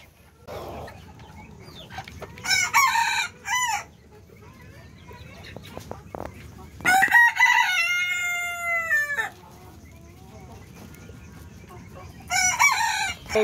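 A tiny Malaysian Serama chicken, the smallest chicken breed, gives three separate bursts of sharp clucking and a high crow, close and clear, with quiet stretches between calls.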